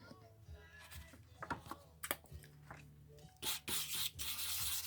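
A landscaping rock rubs on wet sandpaper in short scraping strokes, quiet at first, then louder gritty rasping passes near the end, close up.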